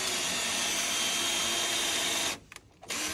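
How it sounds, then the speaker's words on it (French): A power drill bores into a wall at an anchoring point, a loud, steady whine running almost without pause, with one short stop near the end before it starts again. "Et on va faire deux trous"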